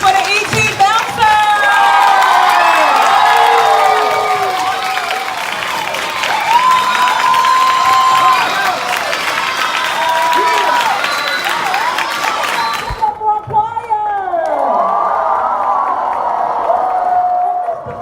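A school play audience cheers, whoops and applauds loudly for about thirteen seconds, with children's shouts mixed into the crowd noise. A brief dip follows before another burst of cheering.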